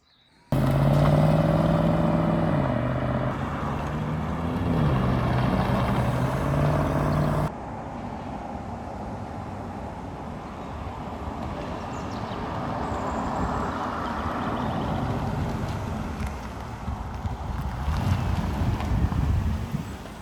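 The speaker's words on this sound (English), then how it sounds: "have a check this little video clip out of me driving the Jag" A Jaguar XKR X150 driven on hilly roads. An engine drones loud and close at first, then drops to a quieter, wind-buffeted rumble that builds again toward the end, with no voices.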